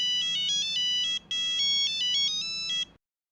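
Phone ringtone of an incoming call, a bright electronic melody of repeated short tones in two bursts, loud and close, ending abruptly in silence.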